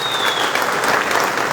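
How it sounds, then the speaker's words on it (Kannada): An audience at a public speech event bursts into loud, dense applause, many hands clapping at once in a brief, steady wash. "ಚಪ್ಪಾಳೆ ಮೂಲಕ"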